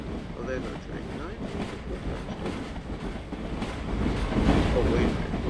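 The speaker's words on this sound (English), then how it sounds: "there's our train" Train in a horror video game with nightmare animatronics, a continuous low rumbling roll that grows somewhat louder toward the end, with faint game noise mixed in.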